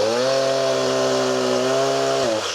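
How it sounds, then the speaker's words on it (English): A chainsaw runs at a steady high rev while cutting wood during land clearing, loud and close for about two seconds before the engine pitch drops sharply as the blade binds. "Chainsaws trapped."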